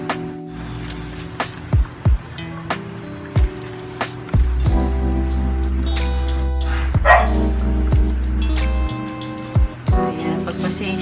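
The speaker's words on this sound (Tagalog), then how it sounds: "pagpasensya nyo na maingay aso ko" A dog barks repeatedly in a home kitchen while ginisang monggo with tofu is being cooked. The loud, sharp barks come in irregular bursts over a steady low hum and sizzle.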